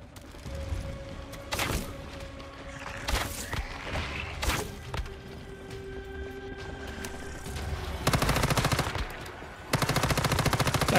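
Gunfire from a weapon in the video game Once Human, with rapid automatic bursts and sharp single shots scattered across the clip, ending in two loud, dense sustained volleys.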